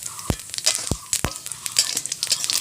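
Cumin seeds crackle in hot oil as a tempering for a pumpkin and prawn curry, with a few sharp pops and taps over a light, steady sizzle.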